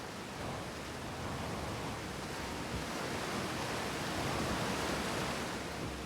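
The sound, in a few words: loud waterfall in video game Outer Wilds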